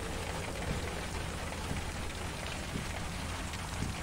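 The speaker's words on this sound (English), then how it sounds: "Slammed by hail right now." Hail pelts down during a tornado-producing storm, a dense, steady rattle of impacts with scattered louder hits, heard close by with no talking.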